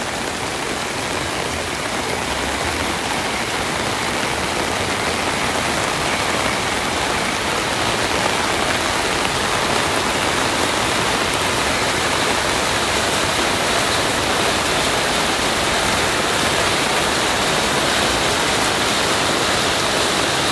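Steady, dense rain pours down at Royal Phuket Marina in Thailand, a continuous full hiss of drops hitting surfaces, even in loudness throughout, with no voices.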